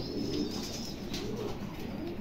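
Soft, low cooing of Toy Lahori pigeons in Pabna repeats a few times, fairly faint against a steady background hiss.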